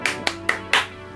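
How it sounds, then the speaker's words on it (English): Four sharp hand claps, evenly spaced and close, the last one a little louder and longer, with no talking. "And now I'll put my hands together for this set awarded."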